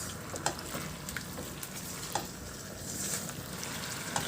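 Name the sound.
stirring sauce with corn in a pan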